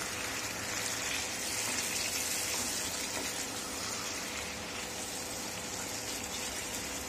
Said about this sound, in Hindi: अब इसमें मैं पानी डाल देती हूँ